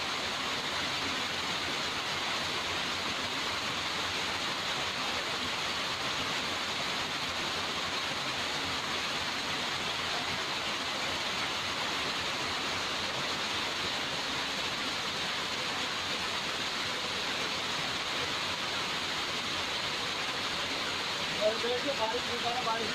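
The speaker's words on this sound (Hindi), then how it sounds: "देख रही बारिश अभी की" Very heavy rain pouring down in Bikaner, a steady, unbroken wash of hissing noise that holds at the same level throughout, with a few faint knocks near the end.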